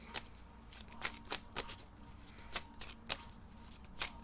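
Tarot cards being shuffled by hand during a Major Arcana reading, a quiet close run of crisp riffling bursts, roughly ten, at an uneven rhythm with no voice.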